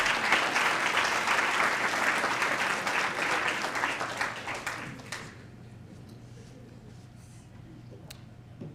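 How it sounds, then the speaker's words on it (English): Audience applause breaks out at a Dr. Martin Luther King Jr. birthday celebration in Meadville. Dense clapping holds for about five seconds, then fades quickly into a quiet room with a low hum. "Just want to clap it up for you again."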